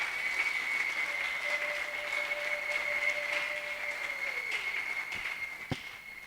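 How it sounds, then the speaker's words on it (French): A church congregation applauds in praise of the Lord during the investiture ceremony for the new president of the RCC, a steady dense clapping that fills the hall and fades slightly toward the end, with a sustained tone beneath it. "Nous allons acclamer le Seigneur."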